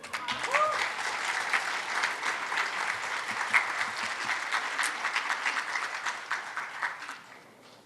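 Sustained audience applause at a women's charity luncheon, steady dense clapping from a large crowd for nearly eight seconds before tapering off at the end, with a brief voice audible near the start.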